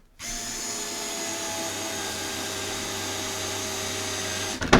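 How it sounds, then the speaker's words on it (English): A small power drill runs at a steady high whine into a barn wood frame for about four seconds after a quick start, ending with a short rattling clatter. "Getting my little drill."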